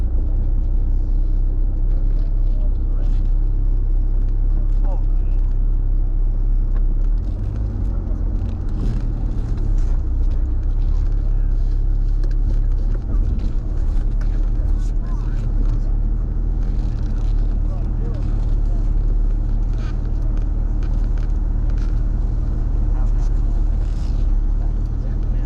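A Chrysler TC by Maserati rolling along to find a parking spot, its engine and road noise forming a steady low drone heard from inside the cabin, with someone talking over it throughout.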